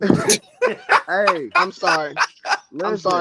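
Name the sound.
dog barking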